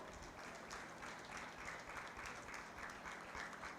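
Audience at a 4-H county fair meat goat show applauds young exhibitors: steady, moderately faint clapping from a crowd that holds evenly for about four seconds without cheering.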